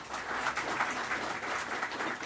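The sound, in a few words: audience applause welcoming Shri Javli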